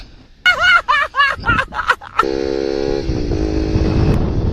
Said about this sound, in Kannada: NS200 ಬೈಕು, ಅದರಲ್ಲಿ ಇನ್ಸ್ಟಾಲ್ ಆಗಿರೋದು ಎಕ್ಸಾಸ್ಟ್ ವಿತೌಟ್ DP ಕಿಲ್ಲರು